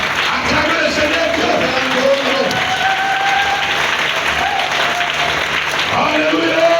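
A church congregation at a service in Ouenzé applauds and claps steadily in a reverberant hall, the crowd noise continuous throughout while voices call out over it.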